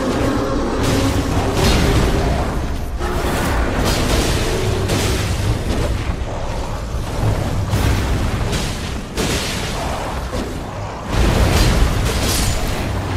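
Jar cannon blasts in Elden Ring, a run of heavy booming explosions repeating steadily over the whole stretch, loud and close, with no talk.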